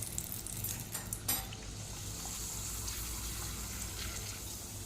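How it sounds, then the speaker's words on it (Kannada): Papad frying in oil already used for ambade, giving a steady hiss and sizzle with a few soft clinks near the middle, heard close and without talk. "ಅಂಬಡೆ ಫ್ರೈ ಮಾಡಿದ ಎಣ್ಣೆಯಲ್ಲೇ ಇವತ್ತು ಹಪ್ಪಳವನ್ನು ಫ್ರೈ ಮಾಡ್ತೇನೆ"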